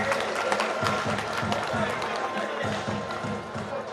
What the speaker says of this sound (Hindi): जोरदार तालियां हमारे अपने सर के लिए।